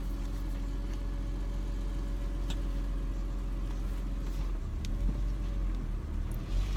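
A BMW Z4 M sits idling with a deep, steady low rumble, close from inside the cabin, and a slight shift in the engine note near the end as the ride gets under way.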